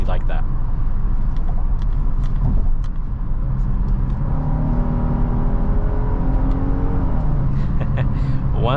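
Genesis GV70 3.5T twin-turbo SUV accelerating on the road, engine note rising steadily and continuously from inside the cabin while a person talks over it.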